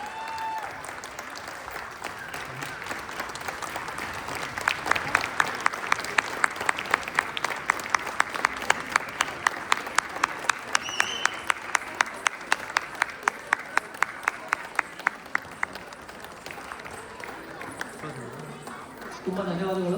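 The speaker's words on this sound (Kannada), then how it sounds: "ಜೋರಾಗಿ ಚಪ್ಪಾಳೆ ಬರಲಿ ಪ್ಲೀಸ್" An audience applauds after a Yakshagana performance at a Kannada association's Rajyotsava celebration, a broad sustained round of clapping that swells and fades over about twenty seconds, with a few rhythmic claps and a voice speaking over it.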